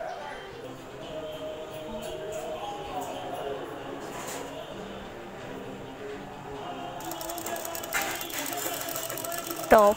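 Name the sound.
sewing machine stitching blouse lining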